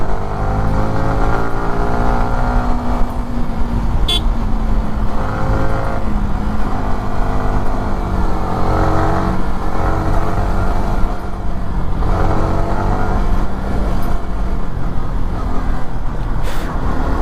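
A motorcycle engine revs hard and steadily on throttle twists along a road trip route to Nandi Hills near Bangalore, loud and close with rising and falling pitch sweeps and no talk.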